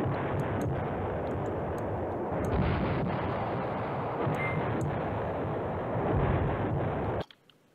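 Bombing in the war game Command Ops 2: a continuous, heavy roar of rumbling explosions and artillery-like blasts with faint ticks layered above, staying loud until it cuts off abruptly near the end.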